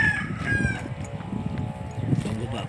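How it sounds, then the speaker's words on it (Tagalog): Tethered Texas-breed gamecocks crow in loud, close calls, with one cock-a-doodle-doo following another, over some clucking and low background noise. "Marami pong mga taling manok po si Luloy. Mga Texas po ito."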